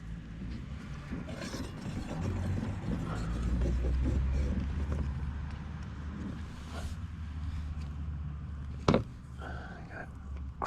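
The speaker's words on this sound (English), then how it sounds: "Crank it down a bit to make sure the bearings are pulled in on both sides" A tool cranks down the cone on a rear hub bearing during a rear disc brake upgrade, giving close mechanical creaks, grinding and ratcheting clicks with one sharp knock near the end.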